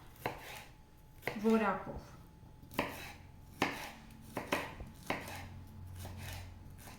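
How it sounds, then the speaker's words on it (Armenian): A knife cuts a fleshy sweet bell pepper on a board, producing a series of crisp, irregular chopping knocks up close, about seven or eight in all. One short spoken word is heard briefly. "Պղպեղը կտրատելուց սովորաբար ներսի կողմից են կտրում, դրսի կողմից դժվար է կտրելը"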